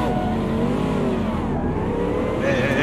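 The engine of a Mercedes AMG GT3 race car at Mount Panorama in the Automobilista 2 racing game revs loud and close, a continuous snarling roar that climbs and falls in pitch.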